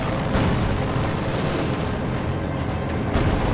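Wartime battle sounds from Company of Heroes 2 during a strafing run, a dense continuous roar of gunfire and explosions at steady high loudness with brief booming swells, no talk.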